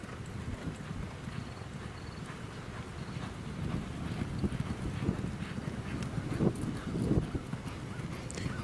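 Racehorse hooves drum on the Saratoga track during a morning workout, a rapid, continuous galloping beat heard at moderate distance over light wind.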